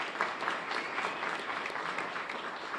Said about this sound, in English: Join me in giving Rania a big round of applause.